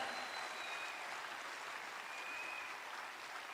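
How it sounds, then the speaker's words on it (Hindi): A live audience at an Indian training program bursts into loud, steady applause, a dense continuous clatter of many hands clapping that holds evenly throughout with no voices standing out. "एक बार जोरदार तालियां"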